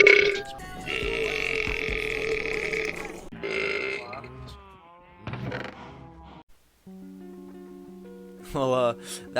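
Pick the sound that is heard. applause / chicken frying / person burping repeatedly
person burping repeatedly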